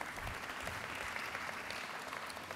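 Audience applause at a mayoral inauguration ceremony, a dense sustained round of clapping from a sizeable crowd, steady and fairly loud with no break.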